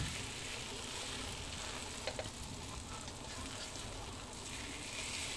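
Pork chop frying in a little oil, a steady close sizzle and crackle with a few faint pops, continuous throughout.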